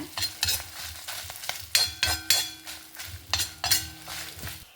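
Mustard seeds and urad dal fry in hot oil for avarekalu kootu, crackling and sizzling while a spoon repeatedly stirs and scrapes the pan in uneven bursts, close up with no talking.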